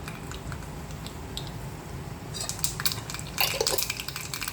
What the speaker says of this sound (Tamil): இவ்வளோ கடுகு போடுறேன்.